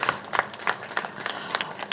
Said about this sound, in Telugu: నిజంగా give a round of applause.